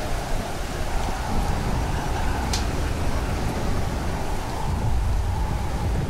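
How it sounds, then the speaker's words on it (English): Steady heavy rain from a thunderstorm in the survival game Stranded Deep, a dense continuous wash of downpour filling the scene without letup, with no clear thunder crack standing out. "it looks like the storm is dying down"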